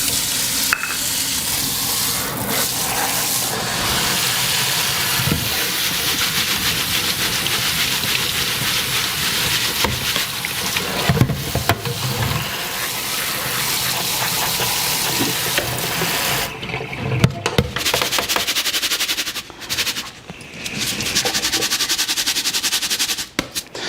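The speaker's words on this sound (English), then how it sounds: "So I'm going to take a half cup of our basmati rice. And we're going to give this a quick wash." Basmati rice being washed by hand in water, with a steady, close, busy swishing and trickling wash that runs almost without pause and thins out briefly near the end.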